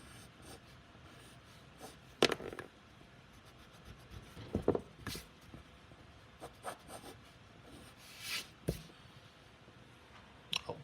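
Eraser rubbing over a pencil drawing of a hand on paper, scattered short scrubbing bursts and soft rubs with pauses between, quiet and close, with no talk.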